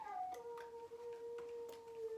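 A long, drawn-out dog howl outdoors with a steady wavering tone, heard at a distance and fairly faint, holding across the whole stretch.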